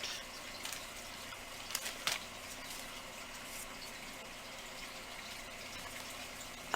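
Small lava beads poured out of a container, a steady granular rattle and patter running continuously at close range with a few sharper clicks, no talking.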